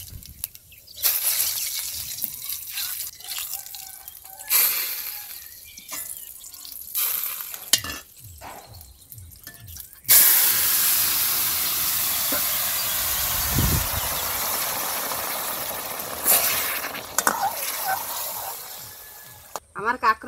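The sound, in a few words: cumin seeds sizzling in hot oil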